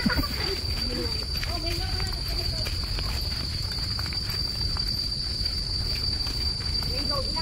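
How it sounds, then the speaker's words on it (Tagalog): Crickets chirp in the forest of Bukit Timah nature park, a steady insect trill running throughout under broadband outdoor noise and faint distant activity. "Kuliglig."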